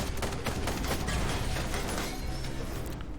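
Weapons opening fire in the steampunk mech game Ironcast, a steady mechanical clatter of rapid shots and whirring gears at even loudness with no voices.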